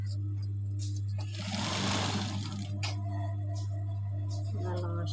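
Sewing machine stitching piping onto a blouse neckline, a steady close mechanical whir with a strong low hum that runs the whole time, swelling louder in the middle.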